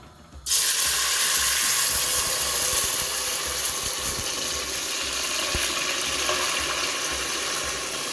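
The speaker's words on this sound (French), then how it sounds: "Une fois qu'elle a bien chauffé, je viens rajouter ma mixture." Sauce mixture for Congolese soso ya sauce sizzles loudly in hot olive oil, a sudden steady hiss starting right after a quiet opening and continuing alone with faint clicks.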